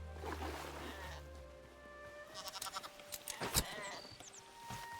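Sheep in the video game Hytale bleat in a few short, wavering calls mixed with game sounds, near and moderately loud, with no talk over them.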